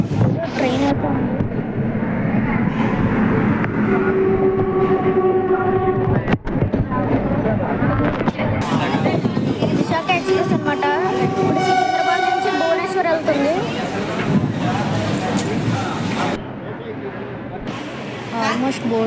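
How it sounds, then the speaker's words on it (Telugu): A train rumbles through a railway station at Nakkapalli, loud and continuous, with the drawn-out blare of a train horn sounding twice over the rolling noise and people talking nearby. "ట్రైన్ అయితే ఉంది."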